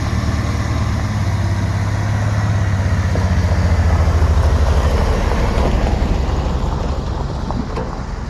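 An old Dodge vehicle driving up under its own engine power, a steady low rumbling engine drone that stays loud and constant throughout, swelling slightly midway, with no talking.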